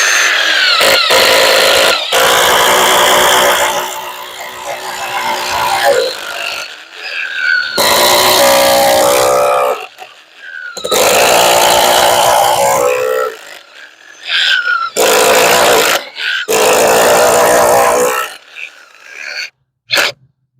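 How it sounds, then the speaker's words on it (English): A power drill whirs in repeated bursts, boring through one wooden gate post into another, with pauses between each run of a few seconds. "we're going to drill it in pretty much through one post and into another one"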